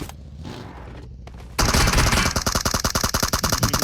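Automatic weapon fire in the video game PUBG starts abruptly after a quieter stretch, then keeps going as a loud, fast, evenly spaced stream of close shots.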